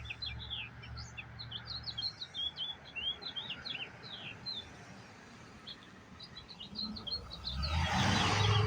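A sparrow sings at sunrise, repeating quick high chirping phrases at moderate distance over a soft outdoor background, with a louder rustling noise at the very end.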